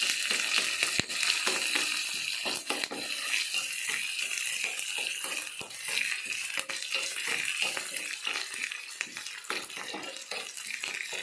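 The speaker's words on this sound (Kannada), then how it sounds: "ಸೊ ಈಗ ಉಳ್ಳಾಗಡ್ಡಿ ಒಂದು ಸ್ವಲ್ಪ ಬ್ರೌನ್ ಆಗೋವರೆಗೂ ಒಂದು ಸ್ವಲ್ಪ ಹುರ್ಕೋತೀನಿ" Onions frying in a pan until brown, a soft continuous crackling sizzle with scattered sharp pops and occasional stirring clicks, fairly quiet and steady.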